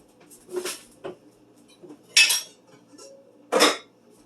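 Clinks and knocks of a heavy Dutch oven and metal utensils being handled on a stovetop in a home kitchen, several separate sharp strikes with quiet gaps between them.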